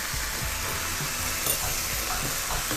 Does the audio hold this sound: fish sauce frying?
yes